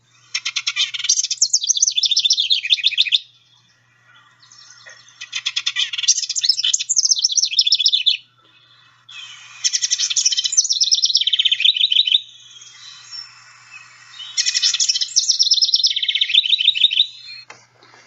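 Winter wren song: four long bursts of rapid, high chattering trills and tumbling notes, loud and clear and separated by brief pauses, with no voices.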